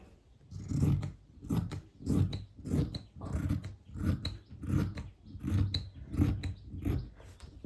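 Scissors cutting fabric for a feeding nighty, in a regular series of about a dozen close crunching snips, each a short rasping chop with brief pauses between, and no talk.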